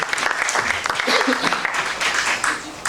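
Audience clapping at the opening of a radio telescope for observing OH emission in Nova vas on the Karst, a steady, dense applause lasting the whole stretch with faint voices underneath.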